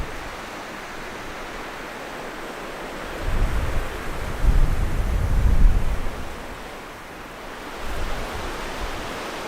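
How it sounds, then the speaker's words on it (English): Strong gusting wind sweeps across a lake portage in Nova Scotia, Canada, a loud steady roar that swells in several heavy gusts and eases off, with no voices. "Here bunkered down, just waiting out the wind."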